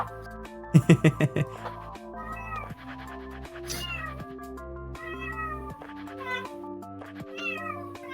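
A cat meows in a room, a quick burst of several loud, close meows early on, followed by softer intermittent mewing over a background of music.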